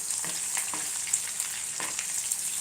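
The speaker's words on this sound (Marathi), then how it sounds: "बघा छान असा कांदा तेलामध्ये होत आहे" Chopped onion frying in oil for a chapati churma dish, a steady close hiss with a few soft stirring scrapes and no voices.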